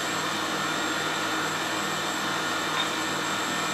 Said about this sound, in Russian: Миксер ставим на 8.